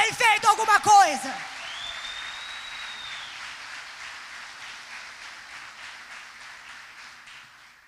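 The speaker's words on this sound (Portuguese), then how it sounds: "Acho que você podia aplaudir ao Senhor por isso." Church congregation applause rises after a brief spoken phrase, a soft, fairly distant wash of clapping that continues steadily and slowly fades.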